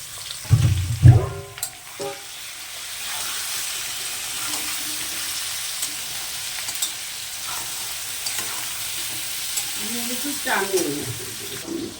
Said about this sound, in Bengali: আলুটা প্রায় ভাজা ভাজা হয়ে আসছে, এবার পেঁয়াজটা দিয়ে দিচ্ছি